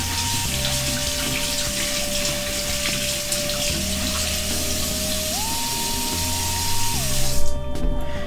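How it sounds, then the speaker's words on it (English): Tap water runs steadily into a sink while a skincare brush is rinsed under it, a continuous close splashing flow that grows briefly rougher near the end, with no talking. "Rinse my brush because I don't want the product to dry in it."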